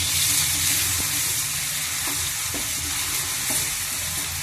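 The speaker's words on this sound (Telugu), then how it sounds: "వేగుతుంది మసాలా, కొంచెం ఆయిల్ బయటకు వచ్చేలాగా వేగాలి కదా." Spiced masala frying in oil in a pan for a bean and tomato curry, giving a steady, loud sizzle with faint stirring scrapes and occasional soft knocks, with no voices.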